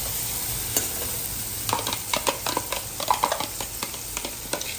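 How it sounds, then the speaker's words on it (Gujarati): Onions, tomatoes and curry leaves go into hot tempering oil with a pinch of asafoetida. The oil crackles and hisses in quick bursts, with scraping as the mix is stirred, close and fairly loud, and no voices. "ચલો હવે એમાં ડુંગળી અને ટામેટા અને કઢી પત્તા પણ નાખી દીધા"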